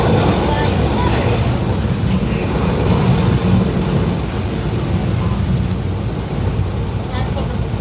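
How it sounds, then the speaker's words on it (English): Flash flood special effect on the Universal Studios Hollywood tram tour, a continuous loud roar of rushing water with a deep rumbling low end, heard up close and steady throughout. "Flash flood was the first major attraction added to the studio tour in 1968."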